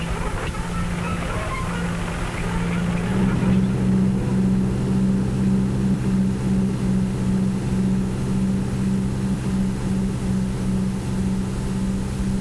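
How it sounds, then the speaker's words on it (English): A 215-horsepower John Deere 8430 tractor pulls a seven-furrow Dowdeswell plough across a field, its engine a loud, steady low diesel drone that continues without a break. "The 215 horsepower John Deere 8430 seemed to have few problems with this seven-furrow Dowdeswell plough."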